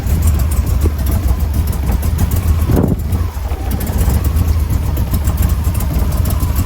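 The engine of a newly built AK Cobra replica car runs on its first start with a loud, rough, continuous rumble and wind buffeting, holding constant throughout with a brief dip partway.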